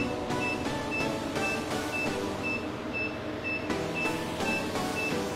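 Cryolipolysis device suctioning onto a fat deposit: a steady mechanical hum with regular short beeping pulses, close and continuous, with no talking.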